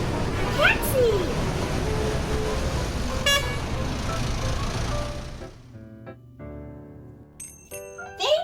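City taxi sounds: a running car engine with traffic rumble and horn toots at the start, then a quieter stretch with a cheerful voice and a bell-like chime.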